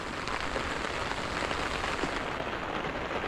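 Heavy rain pours down steadily in the Philippines during a downpour that raises flooding concerns, making a dense, unbroken hiss of water hitting surfaces with no voices heard.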